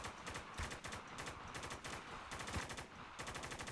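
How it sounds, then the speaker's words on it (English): Rapid automatic gunfire in the video game Spec Ops: The Line, fast continuous bursts of shots with short breaks between them, dense and steady throughout with no talk. "Can I shoot him through here?"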